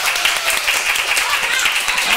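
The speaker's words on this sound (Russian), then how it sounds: "Аплодисменты!" A studio audience on a cooking show claps in a dense, steady burst of applause that fills the whole moment at a fairly loud level.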